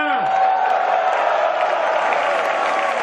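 An audience at a motivational business event claps and cheers continuously, a dense, steady wash of applause and crowd noise throughout, with a brief voice at the very start.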